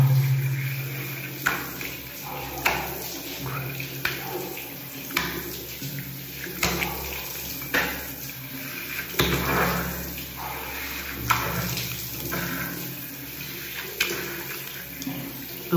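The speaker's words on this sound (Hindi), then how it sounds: "अच्छे से पानी से इसे धो रहा हूँ चेहरे को" Tap water runs steadily into a bathroom sink while someone rinses their face, with repeated splashes and cupped-hand sloshes over a constant rushing flow, close by and with no talk.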